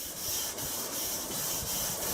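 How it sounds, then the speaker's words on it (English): Rhythmic abrasive rubbing of sandpaper scuffing peeling clear coat on a car, repeating in steady strokes close by with no voices. "they're just sanding down the clear coat, scuffing it up pretty good"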